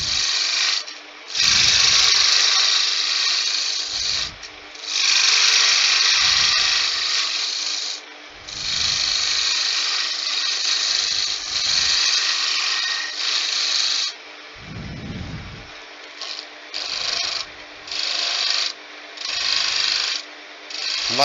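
A gouge cuts a wooden spindle for a candlestick on a spinning wood lathe, giving bursts of rough, scraping chatter that start and stop in short passes, with brief low thumps between cuts, close and loud with no voices.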